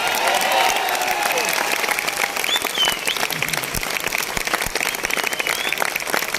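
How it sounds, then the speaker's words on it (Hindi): A large audience at a direct-selling leadership gathering bursts into loud applause, dense clapping with some cheering that stays strong, with a few sharper individual claps standing out. "तो एक बार गुजरात के लिए जोरदार तालियां था"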